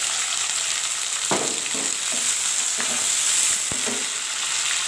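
Ginger and green chillies frying in hot oil make a loud, steady sizzle, broken by a few soft scraping stirs, with no voices.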